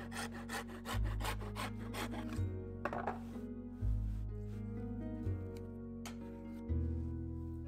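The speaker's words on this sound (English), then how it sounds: "I found a finer saw that did the job much better." A small fine-toothed hand saw cuts through hardboard for tabletop terrain bases in steady back-and-forth strokes, each pass a rasping buzz, close and clear with no talking.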